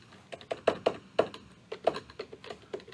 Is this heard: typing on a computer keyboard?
yes